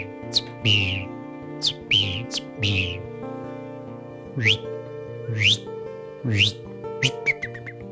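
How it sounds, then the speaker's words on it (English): A great crested flycatcher gives a series of sharp, rising whistled calls, repeated about a dozen times at irregular intervals, clear and fairly close over faint background tones. "a great crested flycatcher, also known as the Elvis bird"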